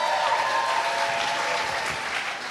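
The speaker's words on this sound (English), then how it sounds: "Let's give a round of applause to Donick right here." Steady, dense applause from a sizable audience at a late-night storytelling event, loud and sustained throughout with no talking over it.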